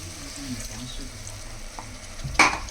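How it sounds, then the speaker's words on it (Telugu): Oil sizzles steadily in a pan as masala fries for a crab curry, with soft stirring scrapes, then a brief louder burst of sizzle near the end. "మసాలా అయితే మంచిగా ఫ్రై అయిపోయింది."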